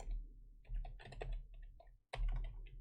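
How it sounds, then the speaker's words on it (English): Keys tapped on a computer keyboard in a few quick runs, close and crisp, separated by brief gaps and one sharp louder strike near the end over a low background hum. "let's type in here a Norbert again"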